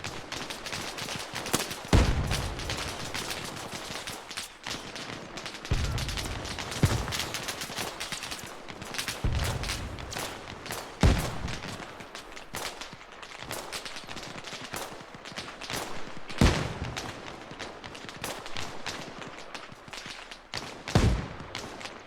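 Gunfire in the military video game Arma Reforger during a training exercise: repeated sharp, loud rifle shots and bursts arriving irregularly over a constant rumbling battle backdrop, with some reports near and others more distant.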